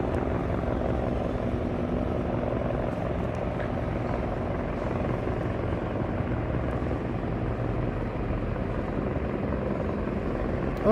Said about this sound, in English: Ooh, look at the helicopter.